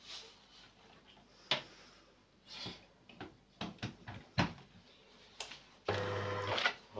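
A repaired DeLonghi ESAM04 bean-to-cup coffee machine runs close by, with irregular clicks, whirs and mechanical knocks, ending in a steady loud grinding hum.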